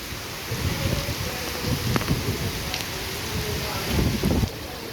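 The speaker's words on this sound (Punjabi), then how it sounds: "ਲੰਘਦੇ ਟੱਪਦੇ ਸੀ ਮੀਂਹ ਵੱਧ ਆ ਗਿਆ" Steady, dense rainfall hisses across the whole stretch, with a few louder rumbles and gusts swelling near the end; no one speaks.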